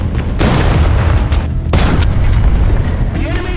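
High explosive tank rounds burst in War Thunder, two heavy booming blasts over a loud, continuous rumble of battle.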